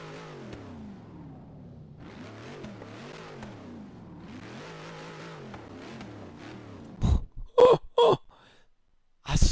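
A Dodge Hellcat engine in Forza Horizon 3 revs in rising and falling sweeps, several surging pulls at steady moderate loudness, followed by a few sharp, loud bursts near the end.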